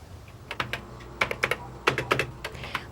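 Someone types on a computer keyboard in an office, with quick irregular bursts of close, crisp key clicks, each keystroke distinct.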